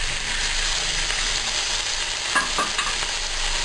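Minced meat (keema) fries in a pan with ginger garlic paste, a continuous sizzle with a few scraping stirs of a spoon near the end.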